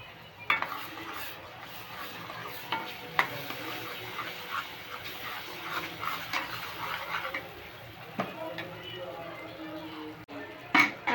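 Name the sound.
stirring and mixing pav bhaji vegetables in a pan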